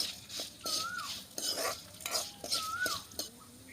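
Cinnamon, pepper, fennel and cumin are stirred and sautéed in groundnut oil in a kadai, with soft, irregular spoon scrapes and faint sizzling, plus a few squeaky tones, all fairly quiet.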